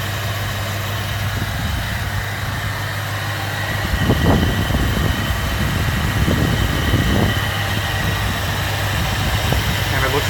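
A 1978 Mercury Cougar XR7 engine runs at a steady idle with a low, even rumble, briefly swelling a little louder partway through.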